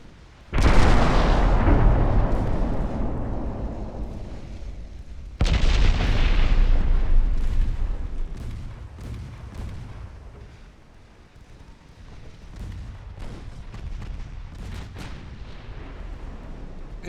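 Heavy naval gunfire in Ultimate Admiral Dreadnoughts, two loud booming salvos several seconds apart, each with a long rolling decay, followed by fainter distant shots and rumble.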